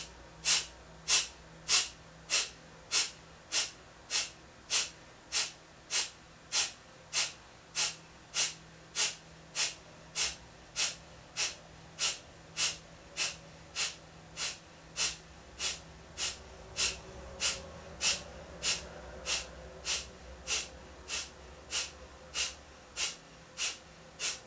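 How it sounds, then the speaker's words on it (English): Rapid breath-of-fire breathing exercise, with a quick, even rhythm of forceful nasal exhales repeating about every half second. Close and clear throughout, with no speech over it. "you can return to the breath of fire exercise"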